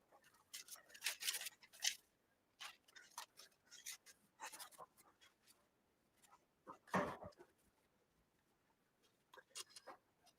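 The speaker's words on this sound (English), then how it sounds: "Shuffling papers here." Papers being shuffled and handled at a desk, a quiet scattered series of dry rustles and soft taps with one louder flurry near the middle, heard close with no talking.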